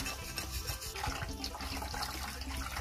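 Water runs steadily from a tap while a large pig head is washed with salt and vinegar, with a continuous splashing rush and a few soft knocks underneath.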